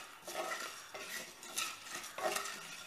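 Whole spices (mace, poppy seeds, cumin, fennel and fenugreek) stirred while dry-roasting in a pan for onion masala, with a steady scraping rustle in several sweeping strokes close by.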